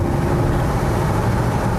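A Porsche Cayenne GTS with its sound symposer switched off gives a short, restrained engine rev, a dense low rumble that stays steady and fairly loud for under two seconds.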